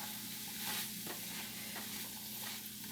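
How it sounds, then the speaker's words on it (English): Roast beef sizzles and is stirred into a hot pan of pepper steak stir-fry, steady close frying hiss with soft scraping stirs throughout, no talking. "Now, we're just going to toss in or stir in, combine our beef."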